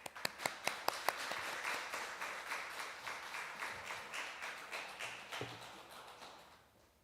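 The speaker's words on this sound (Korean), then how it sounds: "인사하실 때 박수 부탁드립니다." Audience applause at a church certificate-awarding ceremony, opening with a few sharp, distinct claps before swelling into steady, moderately loud clapping from a crowd in the hall that continues throughout.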